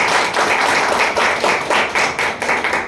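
Audience applause from a live seminar crowd, a dense burst of clapping from many hands, loud and close, with a rapid uneven rhythm lasting a few seconds.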